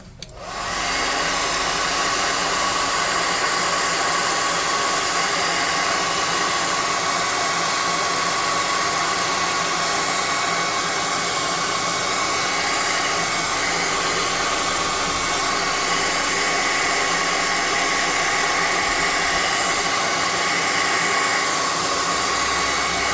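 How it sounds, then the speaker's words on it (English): A hot air gun blows steadily at close range to dry paint on a tabletop scenery model, a loud constant whooshing whine that starts abruptly and runs unbroken. "Now let's hit this with a hot air gun."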